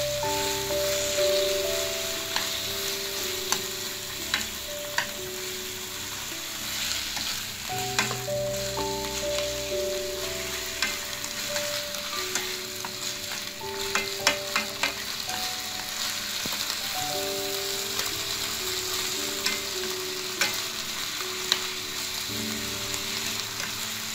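Green beans and veal stir-fry in a pan with a loud, continuous close sizzle, broken by frequent clacks and scrapes of a utensil tossing the food throughout.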